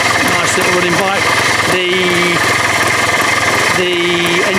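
The single-cylinder engine of a 1985 Yamaha TY250 Mono trials motorcycle runs close and loud with a steady, rapid chuffing idle, with brief revs rising and falling, and a voice over it.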